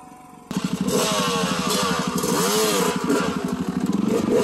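An off-road motorcycle engine starts abruptly and runs at a loud, steady idle with a throbbing, rough beat, close by and with no talk over it.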